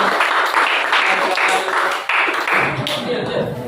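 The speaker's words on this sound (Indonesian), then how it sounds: "tepuk tangan buat teman-teman" Students in a classroom clapping for their classmates at the start of a lesson, a brisk, fairly loud patter of many hands running steadily for several seconds with a slight dip midway.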